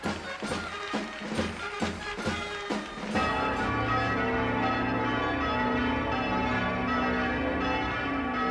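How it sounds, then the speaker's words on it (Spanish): A general peal of church bells across Spain opens with rhythmic clanging strikes, then swells into a sustained, ringing wash of overlapping tones on an old archival recording. "El paso del día 18 al 19 se anuncia con repique general de campanas en todas las iglesias de la nación."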